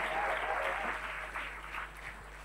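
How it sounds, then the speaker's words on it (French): Applause rises from the audience at a contest, steady and fairly close, with a hum underneath and no voices above the clapping. "Ça mérite de meilleurs applaudissements que ça."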